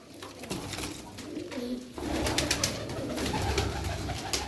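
Çorum naked tumbler pigeons, a featherless-legged breed, coo softly and repeatedly in a loft, their low throaty calls overlapping against a shuffling, rustling background.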